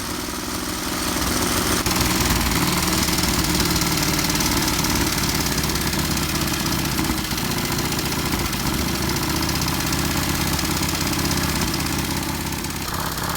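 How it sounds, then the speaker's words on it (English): A 1924 Royal Enfield V-twin sidecar motorcycle engine, 8 horsepower, runs at a steady, even idle close by, with a low rhythmic chugging and mechanical clatter that goes on without any voices. "Just needed the master's touch to get this 1924 Royal Enfield V twin sidecar rolling."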